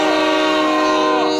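A cartoon train sounds a loud, steady whistle as it starts up, a continuous tonal blast that holds without a break.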